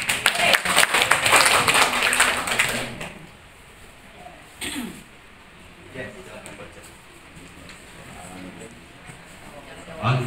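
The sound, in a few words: students applauding for Aska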